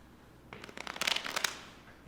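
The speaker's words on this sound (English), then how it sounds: "That was a horrible shuffle." A deck of playing cards being shuffled by hand, a quick rattling flutter of cards that swells and then stops, close and fairly soft.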